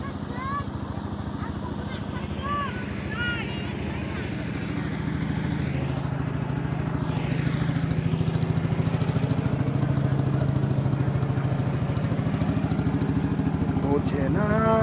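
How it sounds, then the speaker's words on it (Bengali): A boat's engine approaches on a river as a steady low drone that swells gradually louder, with voices talking nearby over the motor. "এই যে নৌকা আসছে"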